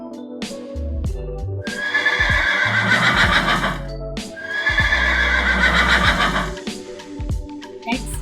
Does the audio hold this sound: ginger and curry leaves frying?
no